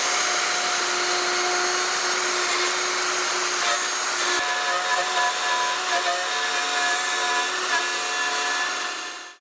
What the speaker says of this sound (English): when you're doing this, you've got to remember which way to go with the router